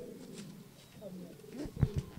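Sendhe breed pigeons coo in a few low, soft throbbing calls near the end, close by and faint, following a stretch of quiet talk.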